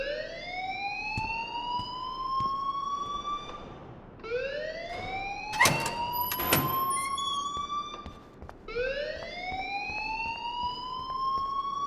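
Alarm sounding in Life is Strange Remastered: loud rising electronic sweeps repeating in three long cycles, broken midway by a couple of sharp clanks and a brief high tone, with no talking.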